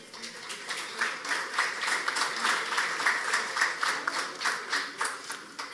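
Moderate applause from an audience at the Sinergia 2024 forum, greeting the lawyer Esther Venegas Saldívar with steady, even clapping that carries through to the end.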